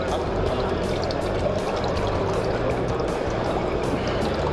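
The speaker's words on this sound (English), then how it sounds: "Don't completely drain the water off, leave a little bit, like so." Water being drained off bait pellets in a fishing pellet pump: a continuous rushing pour, fairly loud and close, steady for the whole stretch with no clear pauses.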